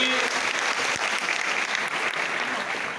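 An audience claps in sustained applause, a dense and steady patter of many hands from a fairly close crowd.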